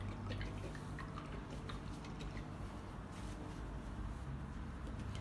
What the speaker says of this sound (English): Okay, you wash your brush out.